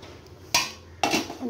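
A metal lid is set over a cooking pan on a gas stove while a pumpkin, ash gourd and prawn curry cooks, giving two sharp, close clanks about half a second apart over faint room noise.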